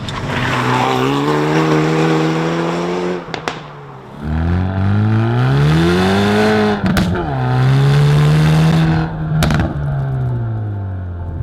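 Sports car engine revving through gear changes, with sharp cracks and pops from the exhaust at each shift, loud and close.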